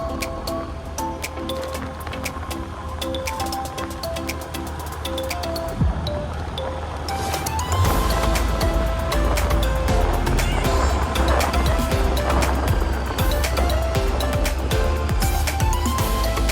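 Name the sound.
car driving on the road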